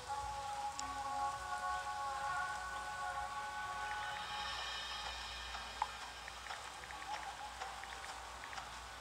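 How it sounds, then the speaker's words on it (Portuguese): Rain falls steadily and faintly, a soft continuous patter with scattered drops at close range, alone with no talk. "aqui está chovendo"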